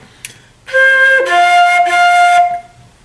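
Close solo flute plays a few connected notes, with the final tone stopped abruptly rather than allowed to ring on.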